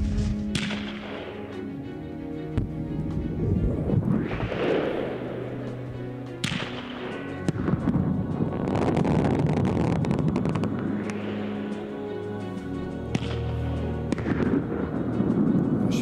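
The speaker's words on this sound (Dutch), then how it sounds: "En Double Flash, de dubbel knal." Double Flash firecrackers go off outdoors in a string of sharp, booming double bangs with echoing tails, several blasts spread across the stretch at moderate distance, no voices.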